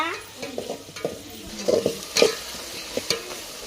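Green chillies fry in a pan with a continuous close sizzle, punctuated by scraping and stirring strokes of a utensil against the pan at irregular intervals.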